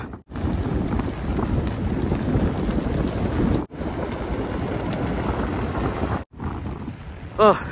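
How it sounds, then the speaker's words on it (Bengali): Strong gusting wind on the mountain trail to Tiger's Nest monastery in Paro, Bhutan, roars and buffets the microphone steadily, broken by two brief drops to near silence. "হাওয়ার বেগ দেখেছেন কিরকম?"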